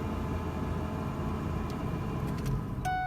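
A 2001 Ford F-150 pickup truck engine idles steadily close by, a low even rumble with a few faint clicks near the end.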